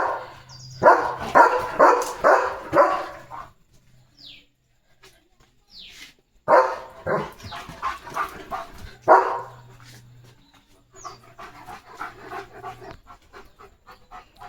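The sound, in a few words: German Shepherd dog barking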